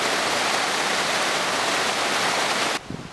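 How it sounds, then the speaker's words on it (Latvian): Ventas rumba, the widest waterfall in Europe, in Kuldīga, Latvia, roars as a steady, loud broadband wash of falling water that cuts off abruptly near the end, leaving faint low sounds. "Tā ir slavenā Ventas rumba."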